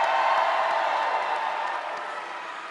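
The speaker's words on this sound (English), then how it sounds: "how about another round of applause for our great Vice President?" A large crowd at a Philadelphia campaign rally applauds and cheers for the Vice President, a broad, distant roar of clapping and whoops that slowly tapers off.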